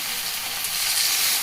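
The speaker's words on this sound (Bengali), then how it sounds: "দেখুন মোমোগুলোকে ঠিক এইরকমভাবে আমি একটুখানি ভেজে নিচ্ছি, পুড়ে যাবে না অথচ এইভাবে ভাজা হবে।" Vegetable momos shallow-frying in a pan, giving a brief, even, close sizzling hiss with no talking over it.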